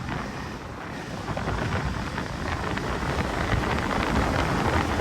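Heavy, roaring wind buffets the microphone continuously during a motorbike ride from Darjeeling to Siliguri, building slightly louder partway through, with no voices.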